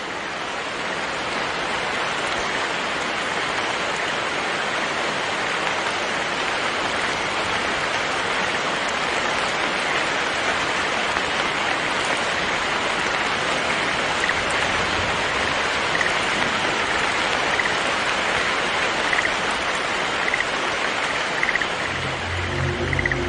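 Steady rain falls on an open landscape in a wildlife documentary about mandarin ducks, a dense even hiss that holds for the whole stretch, with a faint low rumble near the end.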